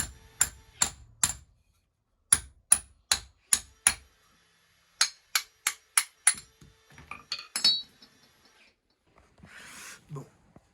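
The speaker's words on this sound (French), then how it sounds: "On va faire ça à la scie et au marteau." Metal hammer blows ring out on the rear axle parts of a Volkswagen Golf 1 under restoration, struck in quick bursts of four or five sharp, loud, clanging hits with short pauses, followed by some metallic clinks and a brief rustle.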